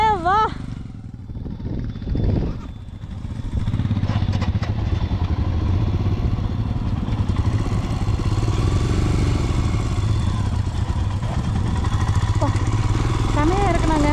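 Motorcycle ridden down a slope at Pangong Tso in Ladakh, its engine rumbling steadily and growing louder close by, with people talking and cheering over it.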